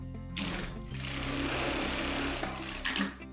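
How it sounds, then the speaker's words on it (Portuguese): A Sun Special industrial straight-stitch sewing machine stitches fabric in a fast, continuous mechanical whir with a rapid rhythmic chatter, starting and stopping briefly near the ends, close and alone. "aperto essa rosquinha para ele não sair da regulagem e faço uma nova costura"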